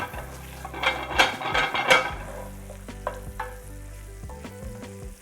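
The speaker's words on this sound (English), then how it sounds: "you can see now the bacon is getting nice and crispy" Bacon sizzles and crackles in a pan for tartiflette, with a steady fry hiss broken by utensil scrapes and stirring clatters, close and moderately quiet.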